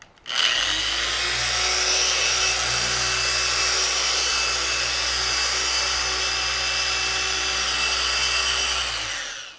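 A 6¼-pound machine polisher with a Eurofiber pad works Meguiar's Solo cut and polish cream over car paint, giving a steady, close, continuous whirring hum that starts and stops cleanly.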